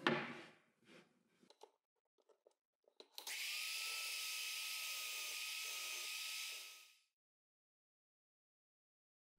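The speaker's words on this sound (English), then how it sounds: "Here you can see me drilling all the necessary holes for the axis of the legs." A column drill press with a countersink bit drills holes in wood for table leg axles during a folding outfeed table build: a few clicks and knocks, then a loud steady whir for about four seconds that winds down to silence.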